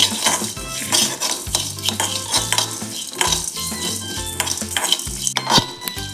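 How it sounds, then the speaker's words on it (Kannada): A spoon scrapes and clatters repeatedly across a pan as black peppercorns, cumin and coriander seeds fry for a Mangalore-style fish curry, loud and close over a continuous dry sizzle. "ಮೂರು ಸ್ಪೂನ್ ಸ್ವಲ್ಪ ಕಾಳು ಮೆಣಸು ಜೀರಿಗೆ ಫ್ರೈ ಮಾಡಬೇಕು"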